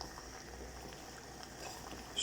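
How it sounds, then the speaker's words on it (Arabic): Garlic cloves boil in a pot of water for a homemade cough remedy, giving a faint, continuous bubbling hiss alone with no voices. "شفتوهم يغلي مزيان"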